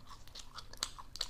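Crispy fried youtiao dough sticks are chewed close to the mic, with sharp, irregular crunches over about a second and no talking.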